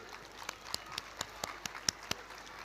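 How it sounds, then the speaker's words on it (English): Sparse, separate hand claps at a school event, about a dozen fairly sharp claps spaced unevenly over a couple of seconds, faint and with no talking. "Every single person associated with AICIE deserves a big round of applause for making it today."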